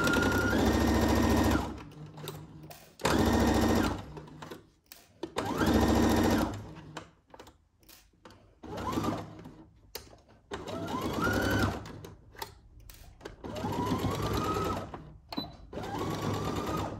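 Sewing machine stitching the side seams of a dress made from a Simplicity 1802 Cynthia Rowley pattern, running in loud bursts of steady whirring with short pauses and quieter segments between runs.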